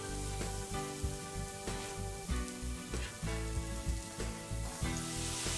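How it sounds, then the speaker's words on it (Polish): Chopped onion and chorizo sausage sizzle steadily in hot oil in a frying pan, a dense, continuous crackle with no one speaking. "Na patelni rozgrzewamy łyżkę oleju i wrzucamy naszą pokrojoną cebulę i kiełbasę chorizo."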